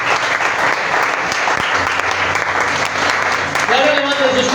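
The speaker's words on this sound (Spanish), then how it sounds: "Den una ofrenda de aplausos al Señor en esta mañana" Church congregation applauding on a Sunday morning as an offering to the Lord, a steady dense wash of many hands clapping throughout, with voices rising through the crowd near the end.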